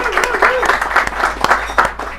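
Applause from a small audience at a Paris afternoon gathering, with scattered individual claps over a busy murmur of voices, fairly close and steady for a couple of seconds.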